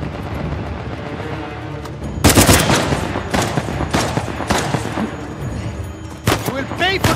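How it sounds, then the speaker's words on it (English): Bursts of gunfire rattle loudly through a firefight in the video game Uncharted: The Lost Legacy, with rapid shots clustered over several seconds and a sharp volley near the end, set against a steady background din. "Someone shooting."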